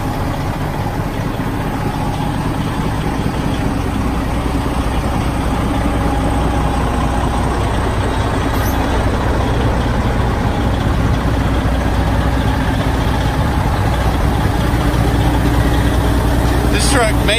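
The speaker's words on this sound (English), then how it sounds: "This is a 99 Freightliner FLD Classic." A 1999 Freightliner FLD132 Classic XL truck engine idles steadily, a loud, constant low diesel rumble with someone speaking over it.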